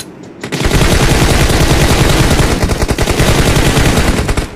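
Rapid automatic gunfire from the battle royale game BGMI, a loud sustained burst of rattling shots that starts abruptly and keeps firing nearly nonstop.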